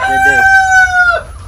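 A rooster on a chicken farm crows once, loud and close, in a long drawn-out call that trails off, with faint background noise after.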